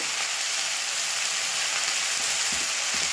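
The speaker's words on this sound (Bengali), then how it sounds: "গুঁড়ো মশলা দেওয়ার পরে আমি আরও 2-4 মিনিট ভালো করে সবজিটা কষে নেব।" Pea pod peels being sautéed in a pan with ground salt, turmeric, chili, cumin and coriander powder, giving a steady, even sizzle that holds throughout with a few faint stirring scrapes near the end.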